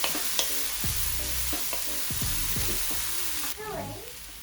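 Prawns sautéing in a pan over low heat for a tonic-wine prawn dish, a steady soft sizzle with stirring, while a voice talks over it.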